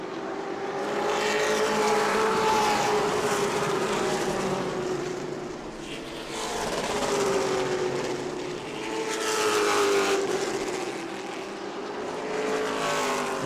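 Race cars at the start of a 100-lap race at New Smyrna, a loud sustained roar of engines swelling and fading as the pack passes, with pitch sweeps from revving cars.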